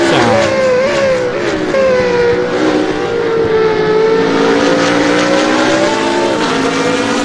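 Several GT race cars, including a Lamborghini, Ferrari 458 and BMW Z4, racing at Mugello in Assetto Corsa. Engines roar loudly and steadily, with rising and falling whines as they rev through gears, several cars layered close together.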